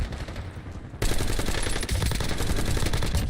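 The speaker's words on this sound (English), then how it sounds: "I got a guy over here shooting at me" Video game gunfire breaks out in a dense, continuous burst of rapid shots, loud and close, after a brief quieter lead-in.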